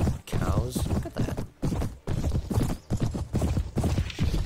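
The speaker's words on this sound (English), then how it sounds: "Horses are fast in this too" Horse hooves gallop in the Viking-era video game Mount & Blade: Viking Conquest, a loud, steady rapid clip-clop running throughout with brief gaps, mixed with game sounds.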